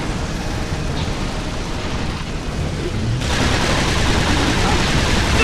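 Gunfire in the video game Resistance 2 on PS3 roars as dense, continuous bursts and booms, loud and unbroken, with heavier rumbling blasts taking over partway through.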